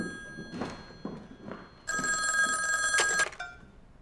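A telephone is dialed with a few soft thunks and clicks, then a loud, bright bell ring bursts out for over a second before cutting off and leaving a faint tail.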